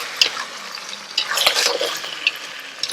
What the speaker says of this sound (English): I'm going to cook it for just a minute, stir it, and I'm going to add the hot water